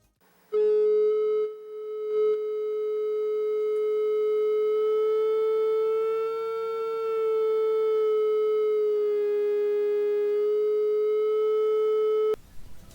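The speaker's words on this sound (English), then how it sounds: "And now, let's do the same with the triangular wave." Steady triangle-wave tone from an ICL 8038 voltage-controlled oscillator, a loud sustained buzzy pitch rich in harmonics that holds for about twelve seconds with slight pitch drift, then cuts off abruptly.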